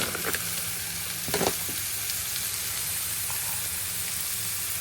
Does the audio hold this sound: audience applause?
no